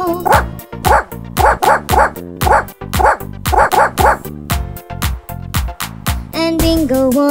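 Dog barks ring out in the children's nursery rhyme Bingo, coming as a rapid, steady series of loud, rhythmic yips that match the beat of the backing music.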